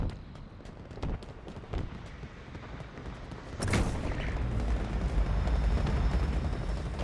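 Alien weapons fire in a Halo game with a series of sharp shots and bursts. A big blast lands midway and is followed by a sustained rumbling roar.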